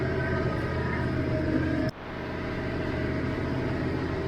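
A Massey Ferguson 1105 tractor pulls a hay baler in second gear, low range, making a steady, loud engine drone heard from inside the cab, with a brief dip about halfway through.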